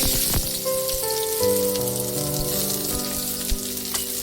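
Onion fries in hot oil in a kadhai, giving a bright, crackling sizzle with scattered pops over a few seconds.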